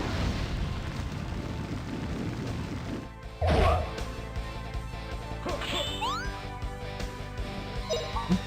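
A single loud fire spell impact bursts out in a Grandia battle, a short crashing hit rising over quiet ambient game sound, followed by fading chimes and whooshing tones.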